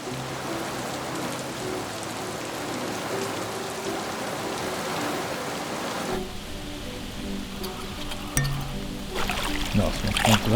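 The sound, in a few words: rain falling before a thunderstorm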